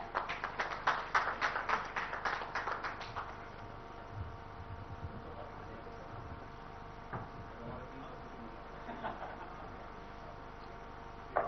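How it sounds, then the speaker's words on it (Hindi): An audience at a Bihar conclave applauds an honoree, a burst of dense clapping for about three seconds that thins and fades into a quiet room with faint background hum. "जोरदार तालियां हो जाएं।"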